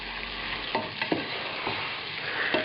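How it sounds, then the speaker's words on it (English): Shredded red cabbage sizzles steadily in a hot pan over medium heat, a close, constant frying hiss broken by a few soft stirring scrapes, with no voices. "Now it goes back up to medium, and we start adding the cabbage in."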